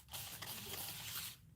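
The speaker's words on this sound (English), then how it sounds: "I'm going to spray it with some water and get it a little bit loosened up" A spray bottle misting water onto fabric during sewing assembly, a single sustained close hiss lasting just over a second.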